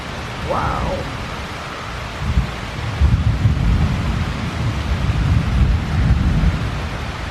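Deep thunder rolls in swelling waves through a rainstorm, growing louder and lingering over a continuous wash of rain, after a short high chirp near the start.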